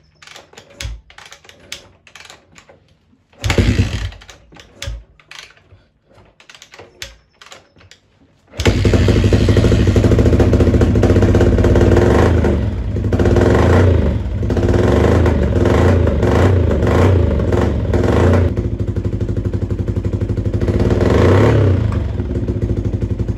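After a few clicks and a short cranking attempt, a Yamaha XT350 motorcycle engine fires up and runs with a loud, steady, close-up idle that pulses slightly, continuing without talk for the rest of the stretch.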